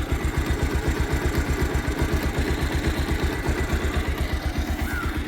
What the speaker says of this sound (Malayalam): ഇനി ആ എഞ്ചിൻ്റെ സൗണ്ടൊന്ന് കേട്ട് നോക്കിയാണ്.